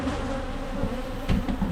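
Wild honey bees swarm around a hive built inside a chest of drawers, making a dense, close buzzing hum that swells briefly louder, with no voices.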